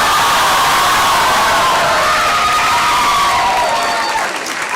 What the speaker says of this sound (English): a big round of pat and applause to all my dear students here who are here with us